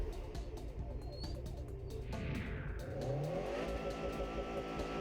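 A Subaru WRX STi launches hard off the line at high revs, its engine note climbing steadily and loudly through the gears as it accelerates away, close and continuous with no talk.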